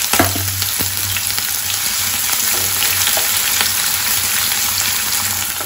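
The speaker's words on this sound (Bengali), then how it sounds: "পেঁয়াজটা 2-3 মিনিট ভেজেছি" Chopped onions and garlic frying in a pan, a loud close continuous sizzle with scattered crackles and occasional stirring scrapes, steady throughout and no talking.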